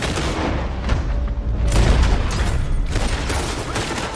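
Gunfire in the video game Red Dead Redemption 2 during a posse shootout, a dense, loud barrage of overlapping booming shots and cracks running throughout, close and continuous.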